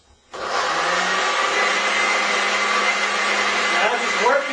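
Blender pulsing chickpeas for homemade hummus, a loud steady whirring roar that starts abruptly after a brief quiet moment and runs continuously to the end.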